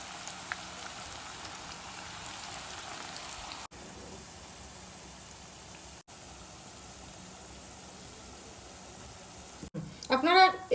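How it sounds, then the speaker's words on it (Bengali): Chicken pakora pieces deep-frying in hot oil: a faint, steady bubbling sizzle running continuously, with a brief louder clatter near the end. "একে একে এগুলো ভেজে নিচ্ছি।"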